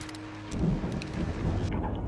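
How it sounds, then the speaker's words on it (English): A deep rumble of thunder rolls in over steady rain and wind during a storm in the video game Alan Wake Remastered, starting quietly and then swelling into a low, sustained roll with no voices. "that storm we all felt coming is finally here"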